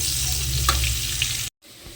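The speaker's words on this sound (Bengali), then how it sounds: "পেঁয়াজটা আমার এখানে লাল করে ভাজা হয়ে গেছে" Onion frying in oil for a fish curry, a loud, steady sizzle close up with a brief stirring scrape, cutting off abruptly near the end.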